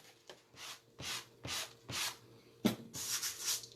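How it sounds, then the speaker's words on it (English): A small sanding block rubs across a painted snowman painting in a steady series of short scratchy back-and-forth strokes, close and fairly soft, with no talk. "Little sanding block."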